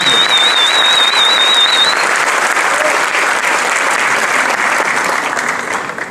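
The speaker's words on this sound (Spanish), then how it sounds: "Démosles un aplauso apoteósico a estos niños" Loud, sustained applause from an audience at a motivational talk, cheering for a group of children; dense clapping holds steady for about six seconds, with a faint tone over the first two, then tapers off.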